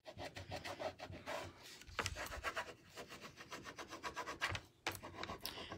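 Hard rubbing and scraping of a hand tool pressing transfer letters onto a wooden door hanger, a steady close-up series of rasping strokes with short pauses between bursts.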